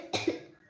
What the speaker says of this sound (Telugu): దగ్గొస్తుంది.